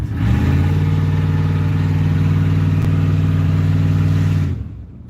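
A truck engine revs up loud and close as the gas pedal is pushed down, holding a strong steady roar for about four seconds before cutting off abruptly; no talking.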